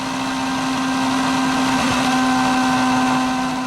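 A Formula 1 car engine in 2006 qualifying with a fuel pressure problem holds a loud, steady droning whine close by, a sustained mechanical tone with no clear revving or sputtering.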